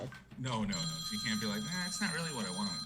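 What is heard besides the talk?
telephone ringing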